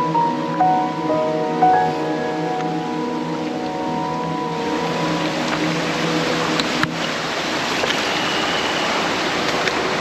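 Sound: stream near Devkund waterfall, Tamhini Ghat

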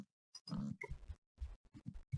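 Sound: pig oinking in video game Minecraft

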